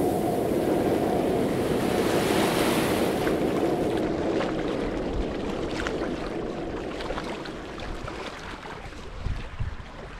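Arctic Ocean waves wash the shore at Reine in the Lofoten islands, a steady close surf roar mixed with wind buffeting the microphone. The wash eases slightly over the ten seconds, with no voices.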